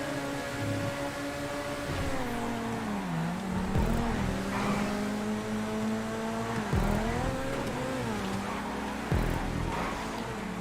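Race car engines drone and rev in a GTA 5 track race, a continuous mechanical hum whose pitch climbs and then drops sharply at each gear shift, repeating several times at a steady, moderate level.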